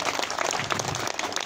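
An audience at a foundation's opening ceremony applauds, a dense burst of many hands clapping together, loud and continuous throughout.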